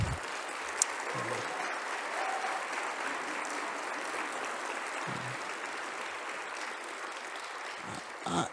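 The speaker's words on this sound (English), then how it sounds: "let's give them a round of applause" An evening lecture audience gives a round of applause for the guest speakers, with a sustained wash of many hands clapping at moderate level and a few louder thumps near the start and end.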